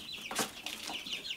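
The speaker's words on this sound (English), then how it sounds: "what these are our Bourbon Red heritage breed turkeys" Bourbon Red heritage breed turkeys on a homestead, giving soft clucking calls with a brief burst of wing flapping, fairly faint, with no talk.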